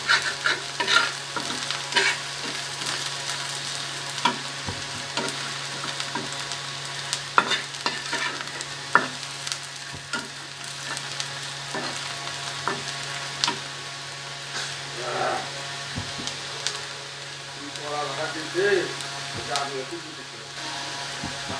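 Elephant foot yam frying with ginger paste in a pan sizzles steadily while a utensil stirs and scrapes in repeated clinking strokes, close and moderately loud, with a faint background hum and no clear voices.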